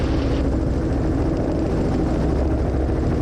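A helicopter settling down to land near gross weight as the pilot eases off power, its steady loud rotor and engine roar filling the cabin at close range without a break.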